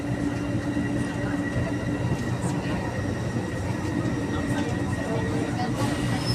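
Inside a packed MRT commuter train heading toward Shaw Boulevard, a constant rolling rumble and rattle of the carriage fills the space, with faint wheel squeal and crowd murmur underneath.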